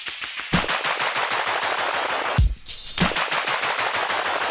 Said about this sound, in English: you can hear the pitch is slowly going down as this is repeating